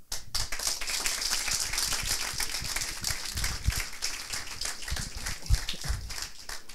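Audience clapping for app presenters at a coding bootcamp demo, sharp individual claps forming a quick uneven patter, moderately near and fairly quiet, with a few heavier thumps, no talking over it.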